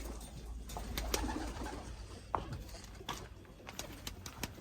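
Tumbler pigeons coo softly at close range, low murmuring calls repeating amid faint clinks and light handling noises.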